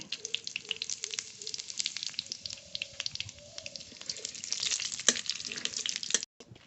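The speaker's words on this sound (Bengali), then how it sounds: "আলু তরকারির জন্য ফড়ন করে নেব তেল তেজপাতা" Bay leaf and whole cumin seeds temper in hot oil for a Bengali potato curry: a faint, steady crackling sizzle with scattered small pops, stopping abruptly at the end.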